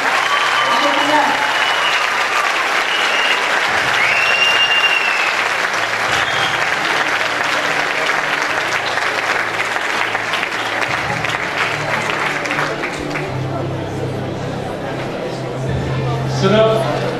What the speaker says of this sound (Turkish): Türkiye birinciliği için güçlü bir alkışla destekler mi sevgili çocuklarımıza?